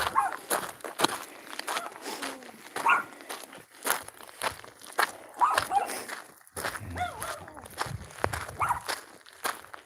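A dog moves about nearby with scuffling footsteps and soft whines, while a person speaks quietly now and then.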